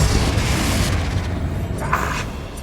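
A Confringo fire spell explodes in Hogwarts Legacy, a loud, rumbling boom that swells and trails off, with a brighter burst near the end.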